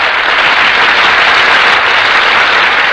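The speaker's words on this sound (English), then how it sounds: "That applause, ladies and gentlemen, is for our stars who have just entered from the wings." Studio audience at a live radio drama broadcast applauds as the stars walk in from the wings, a loud, dense, steady wash of clapping with no gaps throughout.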